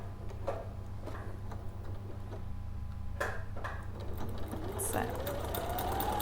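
A sewing machine stitching fabric runs with a fast, light mechanical ticking that starts slow and speeds up toward the end, heard close in a quiet room while a person speaks briefly over it.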